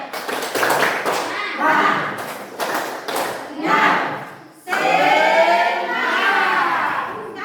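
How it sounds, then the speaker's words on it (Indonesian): A school class doing a rhythmic clapping chant, bursts of group claps in a set pattern alternating with children's voices chanting together, loud and close, ending in a sustained shout. "Tepuk semangat."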